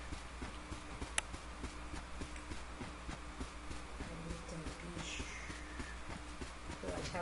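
In the video game Trove, a horse mount's hooves clip-clop in a steady, even rhythm under a constant hum of game background sound.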